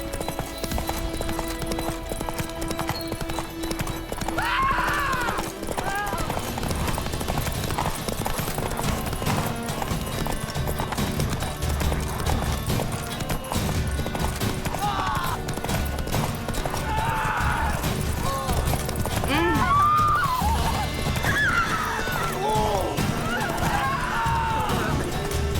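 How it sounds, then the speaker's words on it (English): A horse galloping and neighing in The Witcher 3 video game, with steady hoofbeats throughout and several loud whinnies standing out over game ambience. "Whoa there, Roach."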